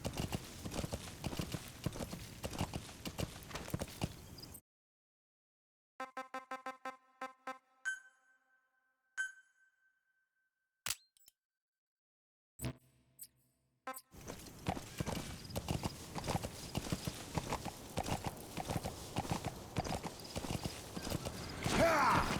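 Horse hooves clop in the video game Metal Gear Solid V, heard close in a steady run at the start and again later, with a quiet stretch of sparse electronic game sounds between.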